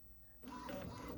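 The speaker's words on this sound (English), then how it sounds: "My printer is being so slow." A slow office printer works through tax return papers, a quiet mechanical whir that swells into a louder, steady feeding and printing churn after a brief softer start, heard close with no talking.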